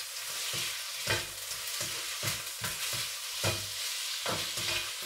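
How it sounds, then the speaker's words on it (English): Butterflied prawns sizzle steadily in a hot pan with garlic, broken by repeated stirring and tossing scrapes at a regular rhythm, close and fairly loud with no talk. "I'm just going to toss the prawns in the garlic"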